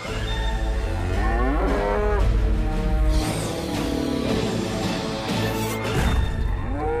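A loud, drawn-out robot cow moo from the Sonic Boom cartoon, with an electronic, synthesized edge, layered with clanking, crashing sounds and continuous music throughout.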